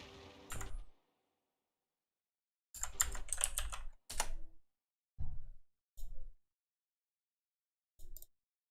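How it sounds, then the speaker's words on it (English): Bursts of computer keyboard typing, with clattering key strokes arriving in short separate flurries between stretches of silence, close and fairly clear, with no voices. "normally if crisp is turned on, you shouldn't hear my keyboard in Discord at all"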